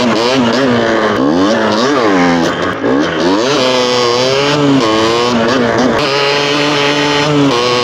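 A motorcycle on a Swedish road ride revs hard and loud throughout while drifting, the engine note climbing and falling in repeated surges and sustained high-pitched whines close to the microphone.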